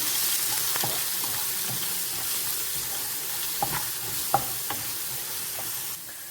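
Cooked cassava tossed in a hot pan with spice paste, chili powder and curry leaves, a dense steady hiss of frying with a few soft spoon taps and stirring scrapes.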